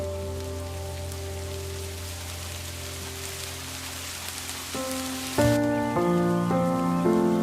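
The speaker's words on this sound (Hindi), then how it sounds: "तभी अचानक से बारिश होने लगी।" Rain starts falling in an animated Hindi moral story, a steady hiss of rain on surfaces that carries on under sustained musical tones, with the music growing louder near the end.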